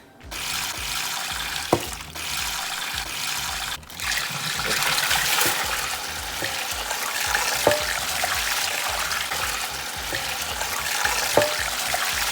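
Cajun brine being poured over a turkey, a steady broadband liquid rush that runs nearly continuously, with a few small knocks and splashes along the way.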